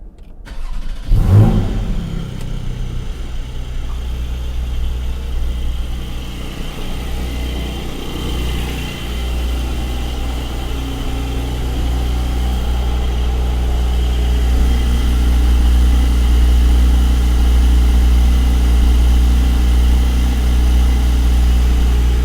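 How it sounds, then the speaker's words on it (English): A 2022 Porsche 718 GTS 4.0 with PDK gearbox fires up from cold: a sharp starter catch and loud flare, then a steady, deep high idle that slowly grows fuller and louder. "let's start the car up and see what you think of it"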